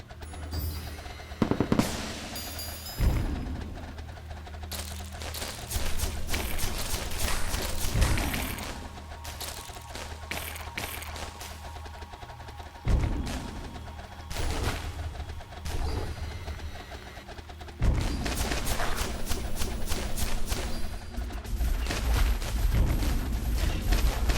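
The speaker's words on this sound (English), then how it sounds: "Trying to fire as many shots as possible by using all these enchantments." Towers in the tower-defense game Gemcraft: Frostborn Wrath fire dense, continuous volleys of shots, loud and busy, with swelling bursts and a few sharper impacts throughout.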